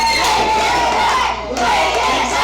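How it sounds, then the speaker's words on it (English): A packed crowd at a wrestling co-main event roars and cheers loudly and continuously, with shouts rising over a dense wall of noise and a brief dip before it surges again. "Listen to that crowd."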